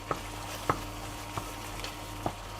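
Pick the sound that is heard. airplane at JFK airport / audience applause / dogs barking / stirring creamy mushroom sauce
stirring creamy mushroom sauce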